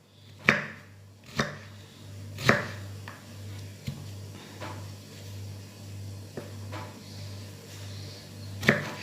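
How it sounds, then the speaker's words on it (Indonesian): A knife chops bottle gourd into matchstick strips on a cutting board, sharp separate knocks spaced a second or two apart, close and clear over a steady low hum. "Setelah dipotong melingkar, kita potong seperti korek api."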